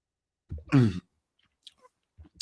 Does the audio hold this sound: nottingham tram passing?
no